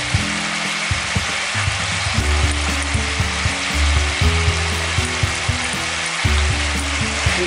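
Okra and onions fry in a pan with chopped coriander leaves while being stirred, giving a continuous close sizzle with light scraping over a low droning hum and no talk.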